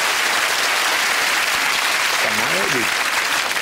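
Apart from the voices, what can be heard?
studio audience applause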